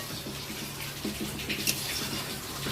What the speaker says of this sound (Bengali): তো এবার আমি তেঁতুল জলটা অ্যাড করলাম